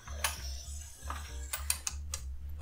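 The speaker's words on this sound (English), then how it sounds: "I grab onto the handle, I go under this first peg, and then I rotate the wheel until it reaches the top again" A wooden warping wheel turns while cotton warp yarn is wound onto it, giving a steady clicking, ratcheting mechanical rhythm, close and moderately quiet, with a few sharper knocks near the end.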